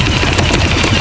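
A toy gel blaster firing gel balls in rapid automatic bursts, a loud fast rattle of shots packed into one second, close up.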